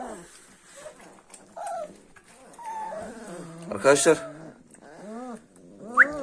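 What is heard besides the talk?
Kangal puppies whimpering and growling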